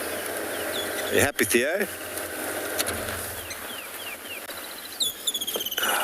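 Birds chirp and sing on a morning safari, brief calls scattered across the scene, with a steady insect hum beneath, a passing rumble, and a person speaking briefly.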